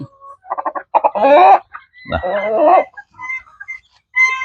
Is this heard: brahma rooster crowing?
yes